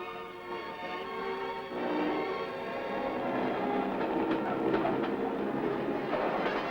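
A steady, rumbling diesel train of eight coaches runs along the rails, its engine drone and rolling wheel noise continuous and fairly close, with no one speaking.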